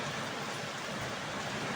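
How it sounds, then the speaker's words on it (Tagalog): Steady rain falls outdoors in the Philippines during home cooking of chicken kaldereta, a dense, even hiss of drops on surfaces holding constant and fairly close throughout, with no voices over it. "Umuulan."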